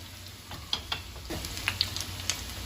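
Kofta sizzles and fries in a pan while being stirred, a steady soft crackle of hot oil punctuated by several light clicks and taps of the spoon against the pan.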